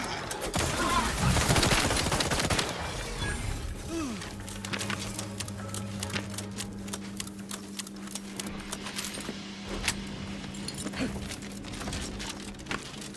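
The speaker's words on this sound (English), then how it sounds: "It is a damn good burst fire gun, but God, it's the reload." A burst-fire gun in the Outer Worlds 2 video game firing rapid clattering bursts and reload clicks at moderate level, with a sustained tone and busy game sounds underneath.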